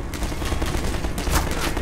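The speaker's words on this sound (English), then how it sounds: "Now you're shooting me from up there as well." Rapid, loud gunfire from a sniper in the first-person shooter Half-Life 2 (Update mod), a dense burst of shots with a sharper crack near the end, with no talk over it.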